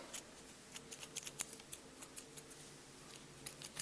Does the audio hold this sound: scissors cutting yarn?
yes